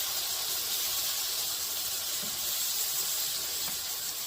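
Diced tomatoes poured with their liquid into a hot pan with charred bologna for a bologna casserole, giving a steady, soft sizzling hiss throughout with no talking.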